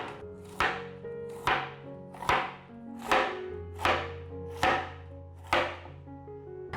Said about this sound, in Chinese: 把竹笋切片